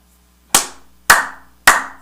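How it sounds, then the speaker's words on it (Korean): Hands clap three times, sharp and loud with a short room echo after each, evenly spaced, in the manner of clapping at a Japanese Shinto shrine. "손뼉을 탁탁 친 다음에요 절을 합니다"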